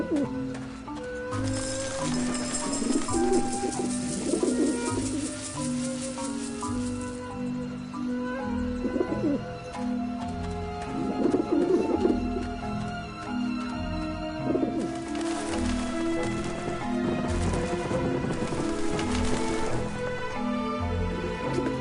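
Pigeons coo repeatedly around a character in the video game Grim Fandango Remastered, with soft burbling calls rising and falling over background music and a voice.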